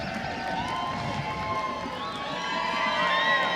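Crowd cheering for clowns at the Blossomtime Parade, an outdoor mix of children's shouts and whoops that builds louder toward the end, with scattered chatter.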